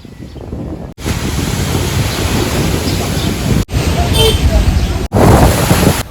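Wind gusts and sea waves roll steadily at a seaside pier, a loud, continuous roar of surf mixed with heavy wind buffeting the microphone, broken by a couple of brief cuts.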